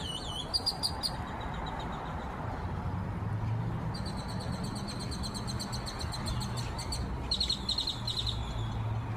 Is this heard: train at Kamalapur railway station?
no